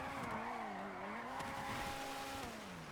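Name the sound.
custom car engine audio in GTA RP, from a video game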